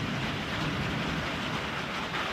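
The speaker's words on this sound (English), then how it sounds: "Here's the rain." Heavy rain pours during a severe thunderstorm, a continuous, fairly loud broadband hiss and patter with no breaks.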